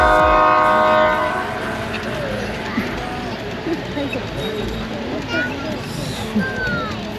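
A Pennsylvania train rumbles past at Longwood Gardens with a loud horn blast at the start, then steady rolling noise with faint whistle tones and children's voices mixed in.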